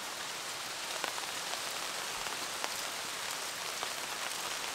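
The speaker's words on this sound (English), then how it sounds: "the rain finally came" Heavy rain pours at night onto a canvas tarp and log shelter at a solo campsite, a dense, steady hiss with scattered louder drops pattering on the fabric throughout.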